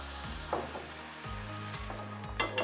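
Cherry tomatoes and cream sizzle and fry in a pan while being stirred, a steady close crackle with a few louder scraping bursts and a low background hum.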